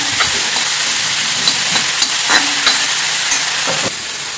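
Dried red chillies being stirred and fried in a pan alongside green ingredients give a steady close sizzle, with scattered scraping clicks from the spoon throughout.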